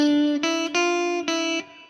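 A guitar plays the first riff of a song in a simplified lesson: a handful of clean, sustained, ringing notes with brief gaps, close and alone.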